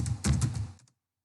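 Keystrokes on a computer keyboard while entering names into an Excel spreadsheet, a short close burst of several quick clicks that stops abruptly, with no talking.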